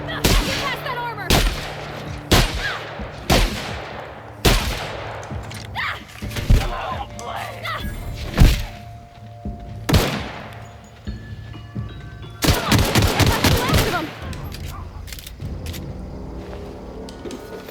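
Repeated gunfire bursts in The Outer Worlds, single loud shots and a rapid cluster of automatic fire among explosions and game effects, with people talking over the action.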